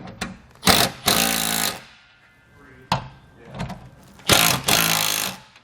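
A power tool drives bolts on a tailgate reinforcement kit fitted to a 2013 Jeep Wrangler, sounding as loud, close bursts of rattling whirr, three or four of them, separated by quieter gaps with faint handling noise.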